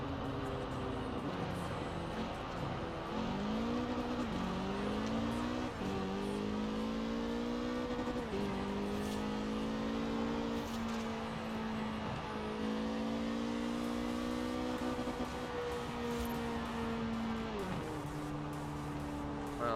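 Renault Megane RS in Forza Horizon 4 accelerating through the gears, its engine note climbing, dropping at each shift and climbing again, loud and continuous over about twenty seconds with no talking.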